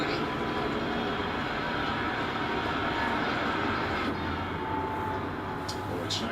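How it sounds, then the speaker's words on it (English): Airplane coming in to land, heard as a steady, broad engine roar that holds at an even loudness throughout, with no talk over it. "Plane's coming in for a landing."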